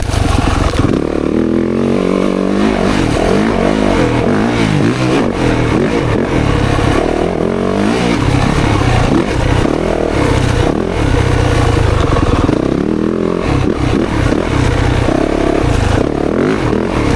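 A Yamaha YZ450FX or KTM 350 XC-F dirt bike engine loud and close, revving up and dropping off repeatedly as it brakes on the engine through tight corners.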